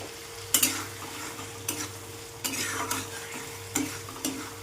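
Rupchand pomfret curry masala with tomatoes in a frying pan, stirred with a few distinct scraping clatters spaced about a second apart over a low steady sizzle and hum, nearby and without talk.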